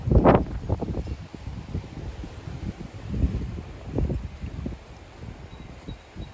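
Gusty wind rumbles and buffets the microphone steadily, with rustling and a few louder gusts rising and falling throughout.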